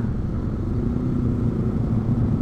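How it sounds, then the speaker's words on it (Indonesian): A motorcycle engine runs with a steady low rumble, close and continuous with no voices. It has been running rough after a night-time wash. "Ya mau ngadet-ngadet nih."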